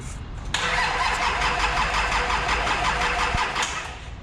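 A Nissan TD42 diesel engine cranks briefly and then catches, settling into a loud, steady, rattling idle close by before easing off at the end.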